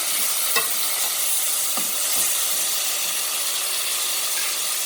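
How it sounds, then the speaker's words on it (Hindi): Tomatoes frying with onions in a pan for aloo kofte curry, a steady close hiss and sizzle throughout with a couple of faint spoon scrapes. "प्याज हल्की गुलाबी हो गई है, ऐड करेंगे टमाटर। टमाटर का कच्चापन ख़त्म करेंगे पहले।"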